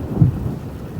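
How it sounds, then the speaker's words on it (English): A low rumble of thunder rolls through a thunderstorm, heard from inside a house truck during rain, peaking briefly and then fading into a steady low roar. "There goes the thunder."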